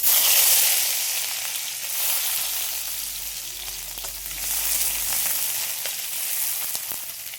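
Chopped onions hit hot oil already crackling with nigella seeds in a home kitchen. A steady, close hiss of frying runs throughout, swelling slightly at times, with faint clinks and stirring and no voices.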